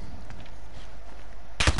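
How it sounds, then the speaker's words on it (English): Grenade explosion in an online multiplayer shooter match, thrown at a van: a single sharp, loud broadband blast near the end, following quiet game ambience. "Throw the grenade at the van."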